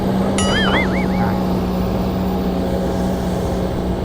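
A Kobelco SK200 excavator with a Hino engine idles nearby with a steady, loud drone. A brief warbling electronic chirp sounds near the start.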